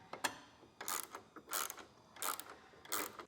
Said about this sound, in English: Now tighten those bolts down with 2 9/16 wrenches.